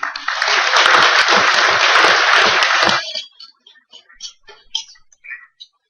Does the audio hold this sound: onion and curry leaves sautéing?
no